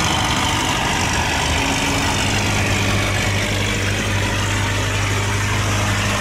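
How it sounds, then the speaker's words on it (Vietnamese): Engine of a boat on a river canal lock, a steady low droning hum running continuously and loudly throughout, with no voices. "bây giờ một chiếc ghe nổi ở phía dưới chạy lên nha"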